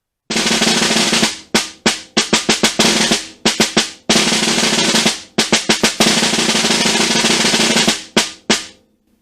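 Snare drum with sustained buzz rolls, dense crackling rolls alternating with sharp single strokes in rhythmic phrases, close and loud.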